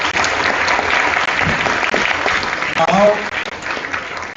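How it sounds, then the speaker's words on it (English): A full round of audience applause at a college computing society speaker session, loud and continuous, with a brief voice or cheer breaking through near the end. "That was great, and round of applause."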